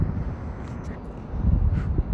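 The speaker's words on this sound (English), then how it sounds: "Wow, it's sure windy tonight." Gusty wind blows at night outdoors ahead of holiday fireworks, a steady low rumble buffeting the microphone and swelling louder toward the end.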